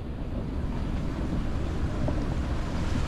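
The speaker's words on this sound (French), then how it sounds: "Hop là, une grosse vague." Ocean waves wash against a sailing boat at sea, a continuous rushing surge mixed with steady wind buffeting the microphone, with no voices.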